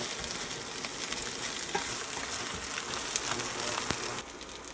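Breakfast burrito fillings fry in a hot pan with a steady, close sizzle and crackle, and a few stirring clicks come through before the frying fades slightly near the end.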